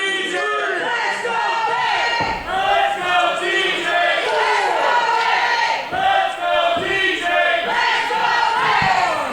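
A packed wrestling crowd at the FSW Arena roars and chants continuously during a title match, loud and close throughout, with a split crowd swelling in waves of cheering.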